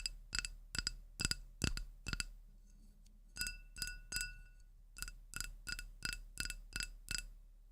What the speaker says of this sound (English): if you hold the glass at the top